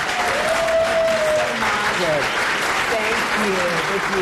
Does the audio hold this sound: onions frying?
no